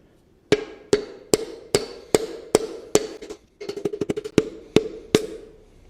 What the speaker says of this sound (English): now to use my extremely expensive piston installation hammer